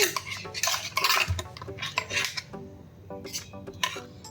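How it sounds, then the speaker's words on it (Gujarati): Spoonfuls of raw mango pulp for a summer sherbet go into glasses: a close run of metal spoon clinks and scrapes against glass, several taps in quick succession, with no talk. "બંને ગ્લાસમાં ત્રણ ત્રણ ચમચી આપણે નાખી દઈએ"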